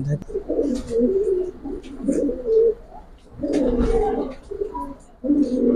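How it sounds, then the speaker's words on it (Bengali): Giribaz silver pigeons coo in a loft, soft low rolling calls repeating in several bursts close by, with a voice talking intermittently among them. "তো আমার কাছে এই কবুতরগুলো অনেকদিন যাবত আমি এগুলো রাখছি"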